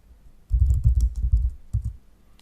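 Typing a command on a computer keyboard, a quick run of close, soft key presses followed by a couple of final taps before falling quiet.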